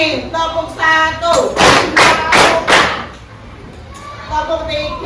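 Schoolchildren clap in unison in a classroom, a quick run of several loud, crisp hand claps between stretches of a teacher speaking and children's voices.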